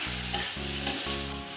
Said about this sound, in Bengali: দিয়ে পনিরের টুকরোটা একটু নেড়ে ফেলে নিচ্ছি